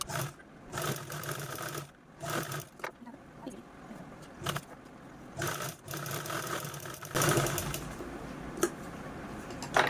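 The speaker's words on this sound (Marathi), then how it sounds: "आपण या पार्टला पण अशा पद्धतीने पायपिंग करून घेणार आहोत" A sewing machine stitches piping onto a handbag part in short, uneven bursts of mechanical whirring, close by, broken by brief pauses and small handling clatters.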